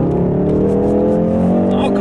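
A 2017 Ford Focus RS accelerates hard in second gear, its engine droning loud and close from inside the car as the pitch climbs steadily through the pull, with a voice speaking over it.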